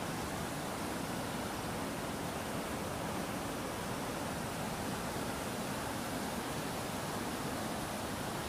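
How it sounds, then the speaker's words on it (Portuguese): Strong water at the Burica River waterfall rushes in a dense, unbroken roar, loud and close with no voices or other sounds over it. "porque a água é muito forte aqui"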